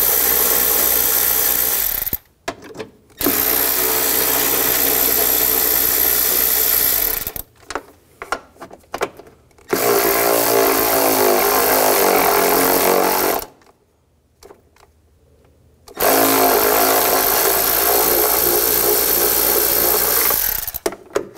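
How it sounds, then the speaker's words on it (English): Bolts on a 2013-2019 Ford Escape 2.0L being removed with a 10 mm socket, loud sustained whirring from a power driver in three long runs separated by brief pauses and rattles. "Using a 10 millimeter socket, take these bolts out."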